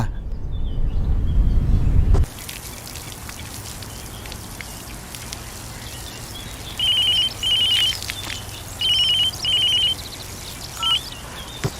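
A telephone rings in repeated double bursts, a bright electronic trill sounding four times at moderate distance over a steady background hiss like rain, after a short loud thump at the start.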